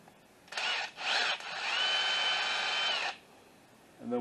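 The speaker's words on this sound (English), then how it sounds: "I'm going to go ahead and run this bolt out" A power tool backs a bolt out of the power steering pump on a 2001 Jeep Cherokee: two short whirring bursts, then one longer steady run, fairly quiet, with a brief voice at the end.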